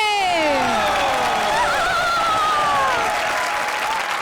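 Loud, sustained applause from a TV comedy show studio audience fills the clip, mixed with cheering and sweeping musical tones.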